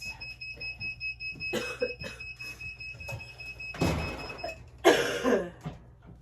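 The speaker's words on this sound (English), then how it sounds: "then it beeps" Heat press used for sublimation printing, giving steady high-pitched electronic beeps that run through the clip, mixed with handling clatter and a brief rustling burst near the end.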